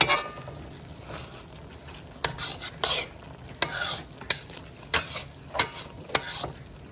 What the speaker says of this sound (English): we'll let it sit in here and fry a little bit